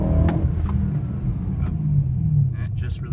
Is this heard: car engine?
yes